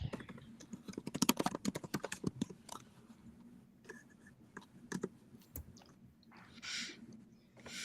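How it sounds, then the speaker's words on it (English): Rapid bursts of keystrokes on a computer keyboard click close by during an online meeting, coming in quick runs with short pauses between them. "I see somebody's typing."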